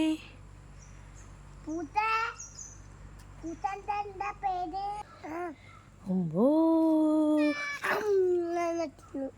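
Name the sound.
cat meowing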